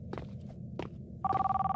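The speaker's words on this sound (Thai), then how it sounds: "โอเคโทรไปหาตำรวจละโทรศัพท์ดังขึ้นอีก" A telephone rings in a Roblox horror game, its electronic trill starting partway through after a few soft footstep-like taps, loud and close with a steady pulsing rhythm.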